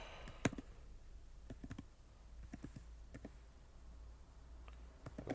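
Someone types a password on a computer keyboard at a Multics login, giving a run of irregular, close, crisp key clicks with short pauses between bursts, over a quiet low hum and no talking.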